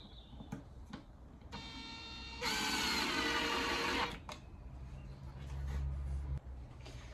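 A drill drives screws into furniture ply for a vintage coffee van restoration, with a short loud whirring burst, a lower grinding run afterward, and scattered knocks and ticks between.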